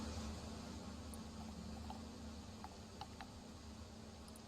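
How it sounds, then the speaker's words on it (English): Steady generated white noise plays as a constant, even hiss, faint and unbroken throughout, with a few tiny clicks. "Is this white noise?"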